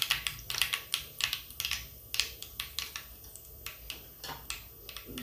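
Mustard seeds spluttering in hot oil before cumin and bitter gourd go in, a rapid irregular series of sharp close pops and crackles over a faint background.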